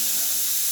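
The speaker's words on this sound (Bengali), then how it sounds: "ওইদিকে দেখো প্রেসারে আমার সিটি পড়ছে" Steam hisses steadily from a pressure cooker whistle on a home kitchen stove while lentils cook, a continuous airy spray with no break across the short moment.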